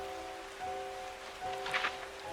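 Steady rain in the video game Strange Horticulture, a soft even hiss running throughout under sustained tonal music, with a brief brighter splash near the end.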